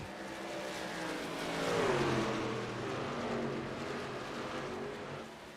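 Race truck engines roaring around Texas Motor Speedway during a truck series race, a steady loud drone that swells and fades as trucks pass, no talking.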